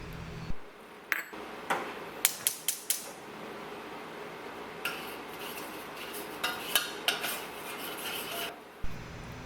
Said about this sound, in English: Heat a 1/3 cup of honey, 1/2 cup of almond butter, or any nut butter of your choice on low-medium heat and mix well until combined.